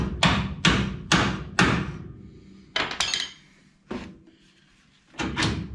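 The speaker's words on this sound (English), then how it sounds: "Here's my tiny hammer." A small hammer strikes a steering linkage on a 1970 Chevelle, a series of sharp metallic knocks, four in quick succession, then several more spaced out, close and ringing.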